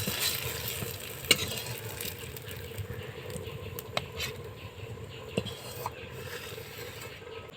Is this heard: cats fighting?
no